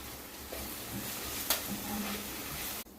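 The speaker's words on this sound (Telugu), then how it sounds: "one spoon ginger garlic paste వేసుకోవాలి పచ్చివాసన పోయే వరకు వేయించుకోవాలి" Ginger garlic paste frying in a pan with roasted onions for a stuffed brinjal curry, a steady low sizzle throughout with a brief stirring scrape near the middle, fairly quiet and without talk.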